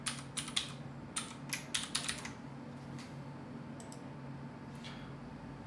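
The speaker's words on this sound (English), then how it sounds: "when you've entered the correct password" Wifi password being typed on a computer keyboard: a few quick bursts of crisp key clicks, close but quiet, then a pause with a couple of isolated taps, and no talking.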